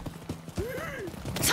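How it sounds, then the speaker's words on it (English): Horse in the video game Rise of the Ronin answering a call: a clear, rising-and-falling whinny close by, with light hoof clip-clop just before it. "you can actually call the horse"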